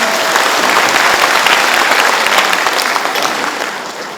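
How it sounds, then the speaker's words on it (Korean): Audience applause at a provincial governor's inauguration ceremony in Gyeongsangbuk-do: a dense, steady wash of clapping from a large crowd that holds strong for about four seconds, then starts to fade slightly at the end. "다시 한번 뜨거운 박수 부탁드립니다."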